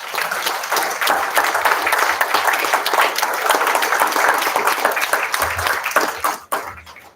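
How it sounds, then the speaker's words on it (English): Audience at a meet-the-candidates election evening breaks into loud, sustained applause that fills the room, then stops abruptly near the end, leaving a brief low rumble. "So please give them a resounding round of applause to thank them for their efforts here tonight."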